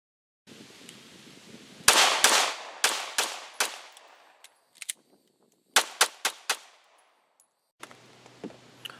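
Live pistol rounds fired on an outdoor shooting range, sharp loud reports in two uneven bursts of about five shots each, with a couple of lone shots between them and a steady background hiss.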